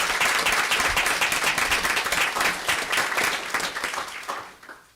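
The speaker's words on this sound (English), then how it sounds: "let's give them a round of applause" Audience applause at a village board meeting honoring a 50th anniversary in Skokie, steady dense clapping across the room that holds loud throughout and tapers off near the end.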